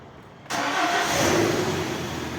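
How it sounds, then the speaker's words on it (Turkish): A car engine starts abruptly with a short burst and then settles into a steady, fairly close idle hum for the remaining couple of seconds, with no voices. "Şöyle bir çalıştıralım aracımızı."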